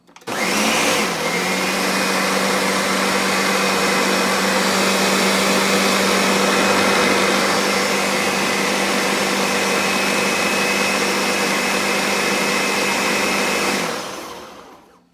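A blender purees a batch of sofrito, its loud steady motor whine starting abruptly, holding constant for over ten seconds, then winding down, with no talk.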